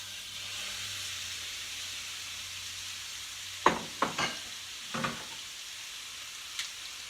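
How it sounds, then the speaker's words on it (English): Shrimp hitting a hot pan with crushed red pepper for shrimp fra diavolo: a steady low frying sizzle throughout, with several sharper spits and crackles clustered near the middle as the shrimp go in, no talking. "We're going to add our shrimp to the pan."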